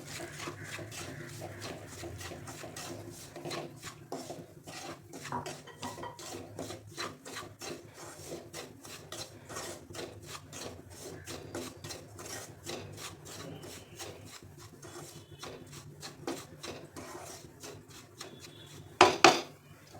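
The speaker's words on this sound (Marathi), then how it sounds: "तर आता आपण 6 चमचे तूप टाकले आणि हा टाकायचा आहे रवा आणि छान भाजून घ्यायचं." Semolina roasting in ghee is stirred steadily in a pan, producing a constant close gritty scraping and rasping with quick rhythmic strokes and a brief louder knock near the end; no one speaks.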